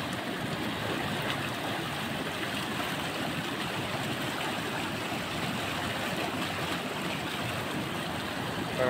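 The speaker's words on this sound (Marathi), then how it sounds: "बघा अशा प्रकारे पाणी वाहत आहे." A rural stream in Ganeshpur runs high after a short heavy rain, giving a steady, loud, broadband rush of flowing water close by that continues unbroken throughout.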